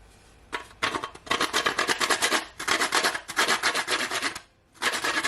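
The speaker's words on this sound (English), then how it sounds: "I have a whole nutmeg, so I'm just gonna grate it" A whole nutmeg is grated for pancake batter, giving close, rhythmic raspy scraping strokes in several rapid bursts separated by brief pauses.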